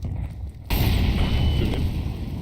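A grenade blast in Counter-Strike 2 bursts in as a sudden loud broadband boom, then rumbles on as sustained, dense noise with faint crackle.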